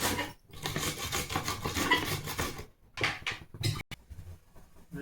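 Onions being grated by hand for fish curry, a rough rasping scrape repeated in quick strokes, close and fairly soft, with short pauses between bursts.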